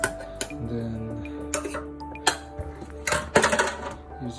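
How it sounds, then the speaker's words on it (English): Vietnamese coffee being stirred, with small metal spoon clinks and taps against the cup or filter, scattered and close, some sharper clatter near the end, over faint background hum. "So I think our coffee is ready. We'll just stir it up a bit"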